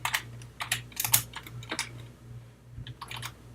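Typing on a computer keyboard sounds as quick, light clicks in uneven bursts of keystrokes with short pauses between them, close and fairly quiet over a low steady hum.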